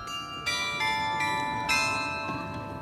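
Church bells ring out a melody in a German town square, bright tonal strikes layering into sustained overlapping chimes at moderate distance, with no talking.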